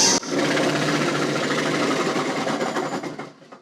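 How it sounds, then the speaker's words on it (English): A tractor engine driving a PTO wood chipper labours under load as a chunk of wood feeds through, a loud continuous mechanical drone that gradually sags and fades toward the end. "the tractor actually went down, the RPMs went down on that one"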